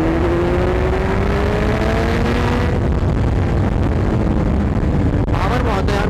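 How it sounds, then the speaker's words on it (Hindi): A Kawasaki Z900 motorcycle engine revs hard while being ridden, a loud continuous roar with rising pitch and a gear change midway, plus strong wind rush close to the rider. "पावर बहुत है यार बाइक में, व्हील उठ जाती है।"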